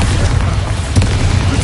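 Bombarda spell explosion in Hogwarts Legacy, a deep, loud booming blast with continuous low rumble throughout, one sharper burst near the middle.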